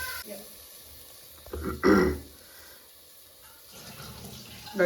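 Water poured into a large pot (chatti) of Kerala toddy-shop-style mackerel curry makes a short, close splashing gush in the middle, surrounded by quiet pauses and a speaking voice.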